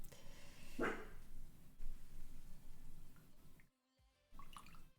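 A single sharp dog bark rings out near the start, followed by dripping water sounds and some clattering, with a brief quiet gap near the end.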